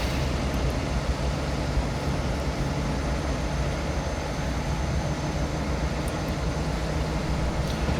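A Class 47 diesel locomotive running on the West Coast Main Line in Train Simulator 2018 gives a steady, droning engine rumble with a constant low hum and even rolling noise, no voices.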